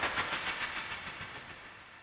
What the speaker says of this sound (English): So if I solo this audio sting,